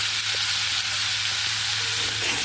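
Ginger paste fried and stirred in a pan, giving a loud, dense, continuous sizzle with a faint scrape of stirring underneath.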